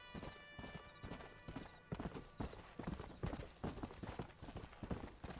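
Horse hooves from the Red Dead Redemption video game on PS3 beat out a steady, close clip-clop of riding with no pauses, and a faint whinny may come through.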